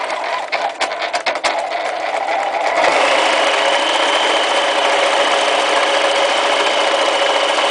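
A sewing machine stitches fabric for a homemade rucksack, running in short bursts at first and then settling into a loud, steady, continuous whir of needle and motor.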